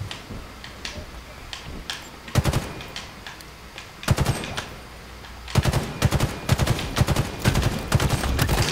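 Burst rifle gunfire in a Halo Infinite match: sharp three-round bursts crack out repeatedly, sparse at first and then in a rapid steady string, close and loud over low game ambience.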